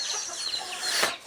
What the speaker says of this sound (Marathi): हा बघा कोंबडा बघा आमचा